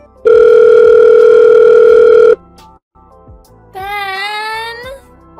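A phone's ringing tone on an unanswered call: a loud, steady electronic tone lasting about two seconds, then after a short gap a quieter, warbling electronic tone. No one speaks.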